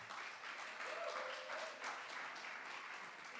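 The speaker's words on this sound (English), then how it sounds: "can we give them a wild round of applause?" Audience applause for poets at a spoken-word poetry competition, a steady wash of clapping held at an even level for a few seconds without a break.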